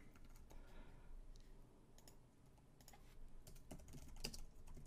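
Quick, faint clicking of computer keyboard keys in irregular bursts, the keystrokes close and alone over a quiet background.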